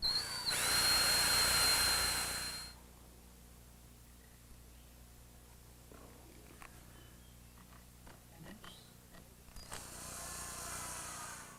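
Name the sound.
power drill drilling into wood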